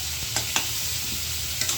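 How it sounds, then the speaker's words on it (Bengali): Potato pieces frying in oil in a pan for biryani, a steady close sizzle with a few soft clinks of stirring, no voices. "তো আলুগুলো খুব সুন্দর করে আমি ভাইজা নিব। ভালো করে ভাইজা নিই।"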